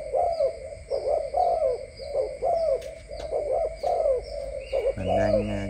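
Imported breeding pigeons coo in a steady rhythmic series of low, throaty rolling calls close by, repeating about every half second, with a brief squeaky noise near the end.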